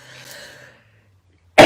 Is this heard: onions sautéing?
no